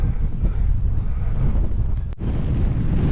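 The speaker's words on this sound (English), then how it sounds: "it is bloody windy" Strong July wind in a valley in the Lake District buffets the microphone in a steady, heavy roar, with a brief dropout near the end before the gusting rumble resumes.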